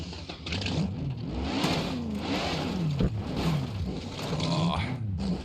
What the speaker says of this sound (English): Let's just crush these cars.